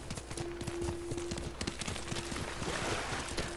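Kage, the horse in Ghost of Tsushima, trots with rapid, even clip-clopping hoofbeats close by, a steady rhythm under a faint sustained tone.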